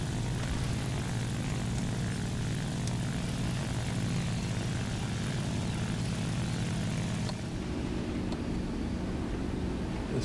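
La-5 piston propeller fighter in the War Thunder combat flight game: a continuous, loud, droning engine roar with a deep throbbing buzz, steady throughout with a slight shift in tone near the end.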